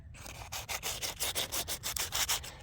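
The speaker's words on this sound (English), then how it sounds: "I would sand it. Let me show you." Coarse 60-grit sandpaper rubs back and forth along a wooden hiking stick in steady, close strokes, a rhythmic rasping of about a dozen passes with no talking.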